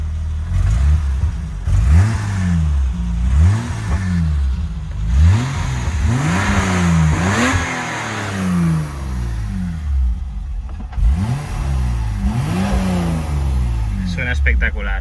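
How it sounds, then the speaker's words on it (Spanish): A BMW E30 325i inline-six engine is revved repeatedly in loud, rising and falling blips with brief settles to idle between them, close to the car. "encender el coche para que oigáis el motor"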